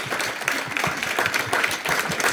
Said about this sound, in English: Round of applause for our rock star panelists.